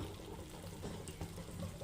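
Water pouring steadily into a pot of mutton biryani being cooked, a soft continuous splashing that stays faint throughout, with no voices.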